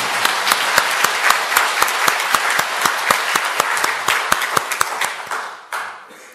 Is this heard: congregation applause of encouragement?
yes